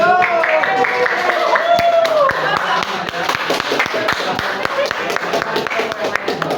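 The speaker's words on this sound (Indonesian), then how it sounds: "Berikan tepuk tangan yang meriah." Students in a mathematics classroom give applause, a run of crisp, fairly sparse handclaps of moderate loudness that continue for several seconds while a voice talks over the start.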